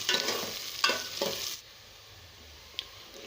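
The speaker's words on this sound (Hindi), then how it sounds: "इसको फ्राई करना है, गोल्डन ब्राउन होने तक हमने इसको फ्राई करना है" Onions frying in a pan toward golden brown, a close hissing sizzle with a few stirring scrapes early on that then drops to a faint quiet simmer with one more light tap.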